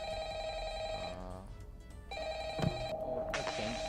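Telephone rings in Five Nights at Frickbear's, a bright repeating electronic bell tone that stops and restarts, with a brief thump between rings.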